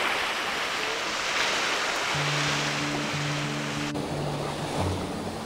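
Surf washing onto a clean beach in South Goa, a steady broad wash of waves with wind across the microphone, plus a low droning hum that starts partway through.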